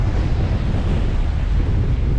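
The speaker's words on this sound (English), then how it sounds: "There is some really good waves here, I can tell you." Ocean waves and wind at sea near Antarctica, heard from a sailing boat: a steady, loud roar of surf and gusting wind across the microphone, continuous with no talking.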